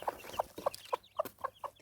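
A hen clucks repeatedly in short, evenly spaced bursts, close by, with no one talking over it. She sits on a clutch of eggs as the chicks begin hatching.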